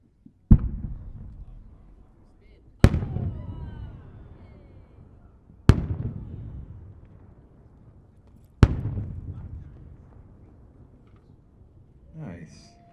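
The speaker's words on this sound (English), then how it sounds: "It's a 7-inch, 3-color breaks to a bottom shot, green outer, white inner," Four heavy 7-inch multi-break cylinder shells burst overhead at spaced intervals, each a sharp loud report trailing into rumbling crackle, from a three-colour green, white and magenta display with a bottom shot; a voice speaks briefly at the end.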